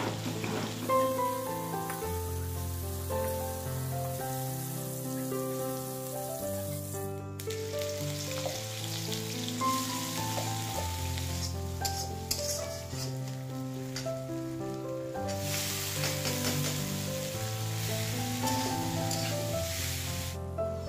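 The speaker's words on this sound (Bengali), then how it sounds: "ভেন্ডি ভেজে নিচ্ছি" Okra fries in a pan with a continuous close sizzle and crackle, partly masked by steady background music throughout.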